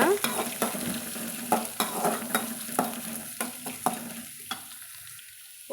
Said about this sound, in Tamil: வெங்காயம் கருவேப்பிலை பச்சை மிளகாய் மூணுத்தையும் சேர்த்துக்கலாங்க சேர்த்துட்டு வதக்கலாங்க